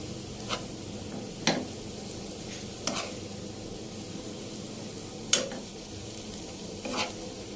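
Flour dough for choux puff cream is stirred in a hot pan over low heat, a soft steady sizzle broken by a few sharp scrapes and clicks of the spoon against the pan.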